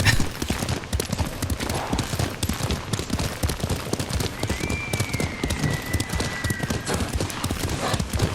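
Horses gallop hard in the Ghost of Tsushima video game, a rapid, loud, continuous drumming of hooves with a brief whinny partway through.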